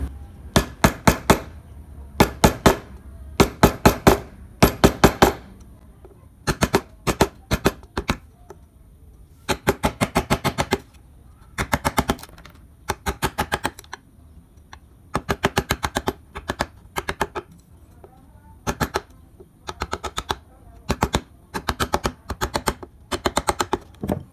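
A gouge chisel carves wood with rapid bursts of sharp tapping strikes, grouped in rhythmic clusters separated by short pauses, loud and close throughout.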